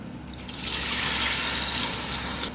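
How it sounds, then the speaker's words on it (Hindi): Water is poured into a cooking pot over oil, fried onions and spice paste for beef nihari, a close steady gushing splash lasting a couple of seconds. "1/2 कप जितना पानी डालेंगे।"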